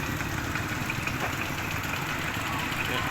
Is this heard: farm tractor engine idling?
yes